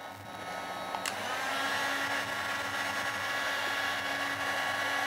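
A hair dryer running in a camper van from its battery, a steady loud whooshing blower hum that stays even throughout after a brief click at the start.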